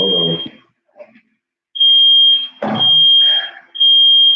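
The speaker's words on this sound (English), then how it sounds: "our smoke detectors are super sensitive" A highly sensitive household smoke detector, set off by cooking in an oven, sounds loud shrill tones in long repeated bursts, with brief voices and noises in the gaps.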